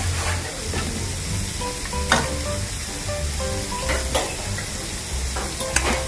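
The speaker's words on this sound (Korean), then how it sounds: "일단 두부를 조리겠습니다" Constant close sizzling of tofu frying in a pan, with spatula scrapes and light clanks as it is stirred, no voices.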